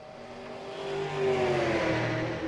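Stock cars race hard at Phoenix International Raceway in a sim racing league, their engines droning steadily and swelling in pitch as the pack goes by, close and loud with no voices.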